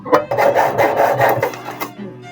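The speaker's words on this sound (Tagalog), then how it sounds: "Gawin ko, lalagariin ko na lang dito." Hand saw cutting through the body of a broken, softened refrigerator being made into a toolbox, a steady rasping back-and-forth of close, loud strokes that stops near the end.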